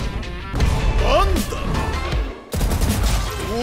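Oni Vandal rifle fire in a game trailer: punchy shots and impacts mixed with music and effects, a sharp burst at the end, with someone talking over it.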